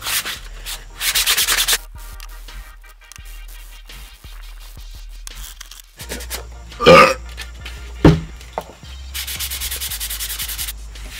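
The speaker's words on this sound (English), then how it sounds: "Get some sandpaper. This is 220, mildly abrasive." Bare plastic car pillar from an E46 sedan being sanded with 220-grit sandpaper, several close bursts of rough rasping strokes between short quiet gaps.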